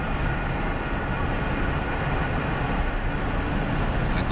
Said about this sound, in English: this is a steady speed, 60 miles an hour, and I tip into the throttle